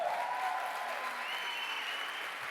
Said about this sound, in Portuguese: Vamos dar um aplauso pelos voluntários.